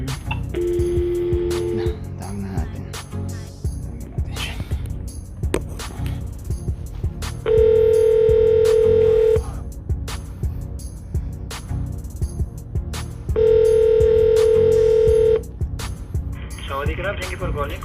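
A telephone dials reception at a building's front desk: a brief burst of keypad tones, then two long ringback tones a few seconds apart, with a voice speaking throughout over background room noise.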